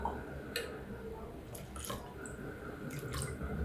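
Water is poured and stirred into ragi flour batter, producing faint wet drips and soft sloshing squelches in a few brief bursts, quiet and close.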